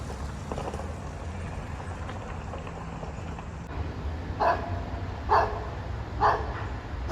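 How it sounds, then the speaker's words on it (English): Dogs on private property beside the Westmoreland Heritage Trail bark at a passing cyclist on an autumn ride, giving three short barks at a distance over a constant rolling and wind rumble. "See, I set off some dogs there by riding by."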